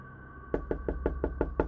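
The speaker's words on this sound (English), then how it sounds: "the house was filled with the sound of someone or something pounding on the walls" Seven evenly spaced, heavy knocks pound against a wall in quick succession, loud and close over a faint background hum.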